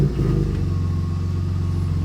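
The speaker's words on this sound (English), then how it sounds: "This actually has the MagnaFlow exhaust, so we might be able to get Jacob to fire that up." Ford Raptor pickup with a MagnaFlow aftermarket exhaust revving, a loud, close, deep throaty rumble that rises at the start and then holds steady and bassy through the rest.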